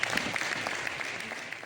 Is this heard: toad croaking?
no